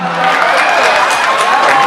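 Loud, dense crowd noise with cheering and applause fills the hall after a cosplay team's stage performance, a steady wash of sound throughout.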